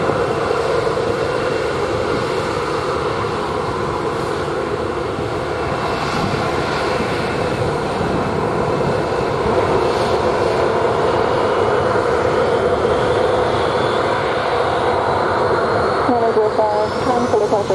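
Jet airliner engines roar loud and steady on the runway at Sangster International Airport, a broad continuous rumble with a rising whine near the end, while radio talk from the tower is heard beneath it.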